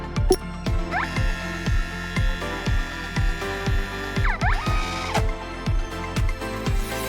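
A home printer runs off a photo with a regular, rhythmic mechanical cycle of thumps about twice a second, plus whirring tonal sweeps from the moving print head, close and clear with no talk.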